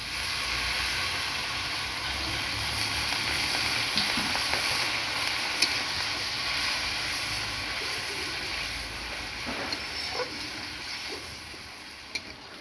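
Fish curry bubbling in a pan after water is added, giving a steady, even sizzling hiss throughout with faint scrapes and clicks of stirring scattered through it.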